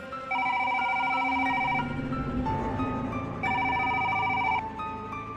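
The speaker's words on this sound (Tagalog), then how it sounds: "12:00 na ng gabi nang biglang tumundog ang kanyang cellphone." A cellphone rings at midnight in a horror story: a bright electronic ringtone sounds in two clear bursts with a short gap between, close and alone over a quiet background.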